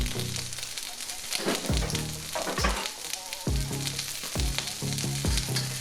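Chopped garlic frying in a pan with onions: a loud, continuous crackling sizzle with bursts of popping throughout, close up and with no one speaking.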